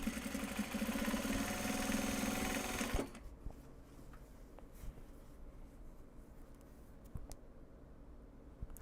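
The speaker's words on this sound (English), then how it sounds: "I am sewing." Sewing machine stitching fabric project bags, a steady loud mechanical whir for about three seconds, then stopping abruptly, leaving quiet room noise with faint handling clicks.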